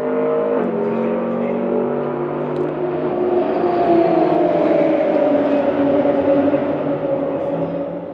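A Nissan race car is driven hard at the NISMO Festival in Japan. Its engine note holds loud and sustained, rising and shifting in pitch as it revs, heard from nearby.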